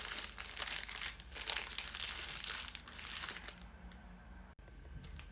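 Parchment paper crumpled and folded around blanched chard-wrapped osban (Tunisian stuffed tripe sausage), a close, continuous crinkling and crushing that runs for several seconds, then stops abruptly into near silence.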